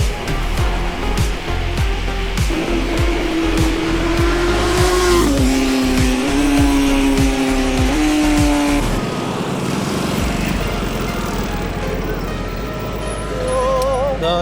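Loud chopper motorcycle engines roar close by, revving and shifting pitch as they ride alongside, with rumbling traffic noise throughout.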